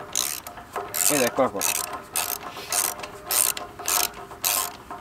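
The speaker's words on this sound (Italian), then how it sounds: "mettiamo il cricchetto dalla parte giusta" A ratchet wrench clicks in quick repeated bursts while turning a spark plug on a BCS 740 two-wheel tiller, close and crisp, with a brief spoken remark.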